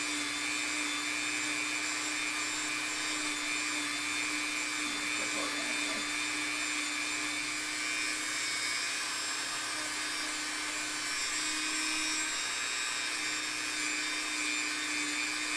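A loud Dremel rotary tool runs continuously on foam for a realistic chicken mask, giving a steady high whine with a constant hum beneath and no pauses.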